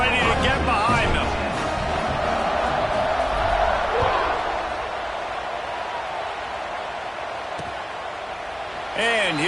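A stadium crowd in an NCAA football video game roars as a broad, steady wall of noise, swelling and slowly easing, under almost continuous commentary voices, with a few thuds and tonal game sounds.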